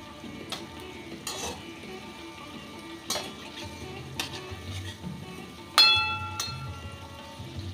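Mango fritters (aamer bora) frying in hot oil, a steady low sizzle with occasional sharp clinks and scrapes of a utensil against the pan, close and without talk.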